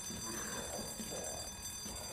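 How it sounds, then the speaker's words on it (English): A fire alarm sounds in the survival horror game Resident Evil 2, a faint, continuous electronic ringing held steady under a quiet background throughout. "Fire alarm."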